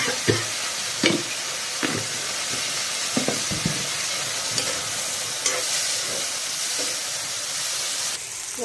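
Vegetables fry in oil with turmeric and salt, giving a steady close sizzle and hiss with occasional scraping stirs against the pan. Nobody speaks.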